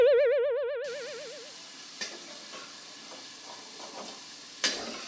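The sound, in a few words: potatoes frying in a pan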